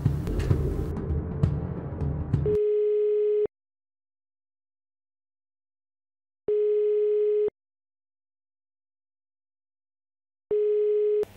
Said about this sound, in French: On va donc demander au régie d'appeler Aminanti, s'il vous plaît